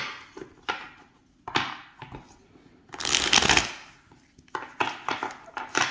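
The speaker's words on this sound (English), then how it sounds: "I'm not having an easy time of shuffling." Tarot cards being shuffled in several quick riffling bursts with short pauses between, close and crisp, no talking.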